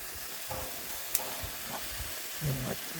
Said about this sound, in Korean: 앞다리살 지금 굽고 있습니다.